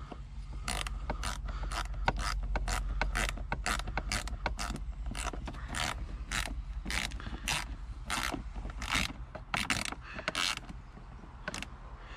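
A ratchet clicks in quick repeated bursts while tightening bolts on a Volvo D5 engine, close and clear, with short pauses between strokes and no speech.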